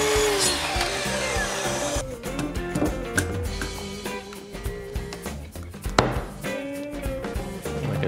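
A wooden dowel for laundry room coat hangers being cut with a power tool, a loud rough cutting burst followed by scattered clatter and handling noise nearby.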